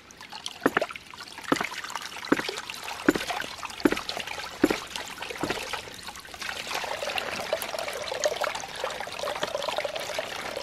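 Water rushes through a pipe fed by a 2-inch Agri Papa pump, with irregular pulsing gurgles and knocks in the first half settling into a steadier flowing hiss later on.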